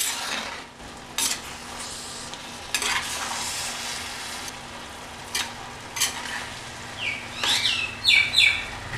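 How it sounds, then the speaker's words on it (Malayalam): A spoon stirs ivy gourd peera sizzling in a pan, with scraping strokes over a steady frying hiss, close up, while birds chirp faintly outside. "കോവയ്ക്ക കുക്ക് ചെയ്യാനായിട്ട് വെച്ചിരുന്നത് നമുക്കൊന്ന് തുറന്ന് നോക്കി ഇളക്കി കൊടുക്കാം"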